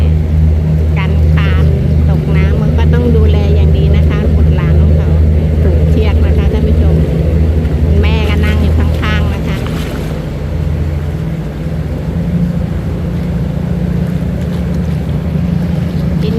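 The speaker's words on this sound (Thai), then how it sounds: "โอ้เรือมันมาใกล้มากเลยท่านผู้ชม" A boat passes close to a riverbank, its engine giving a steady low rumble through the whole stretch while voices talk over it.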